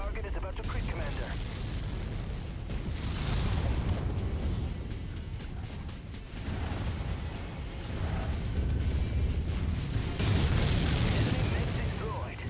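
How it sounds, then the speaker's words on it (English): Mechs exploding in the Mechwarrior 5 video game make a long dense rumble of booms and blasts, loud and continuous with surges of intensity, and speech is heard over the din. "Explosion imminent."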